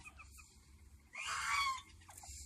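Chickens and roosters in a handmade coop cluck and squawk nearby, with one louder, drawn-out call rising over the softer scattered clucking of the flock.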